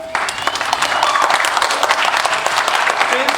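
Dense, steady audience applause fills a theatre after the cast of a first stage play, No Parking, is introduced: continuous crackling hand claps from a crowd at close range, with a voice faintly underneath.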